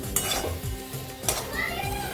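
Masala for soybean bhaji is stirred and sautéed in oil in a pan, with a spoon scraping and clinking against the metal over a soft sizzle, close and fairly quiet.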